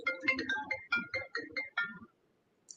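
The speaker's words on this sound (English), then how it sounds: "my phone's ringing" A phone ringtone plays a bright, quick melodic pattern of repeated notes at moderate loudness for about two seconds, then cuts off into near silence.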